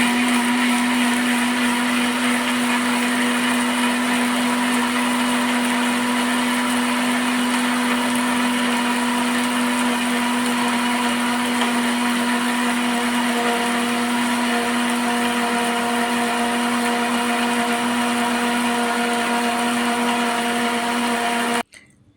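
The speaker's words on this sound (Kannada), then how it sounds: "ಇವಾಗ ಮಿಕ್ಸಿ ಜಾರಿಗೆ ಹಾಕಿ ತಿರುಗಿಸಿ ಚೆನ್ನಾಗಿ" An electric mixer grinder whirs steadily at high speed, a loud continuous motor drone that stops abruptly at the end.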